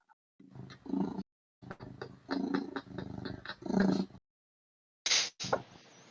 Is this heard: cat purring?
yes